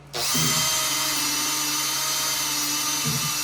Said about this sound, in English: I gotta drill a little bigger.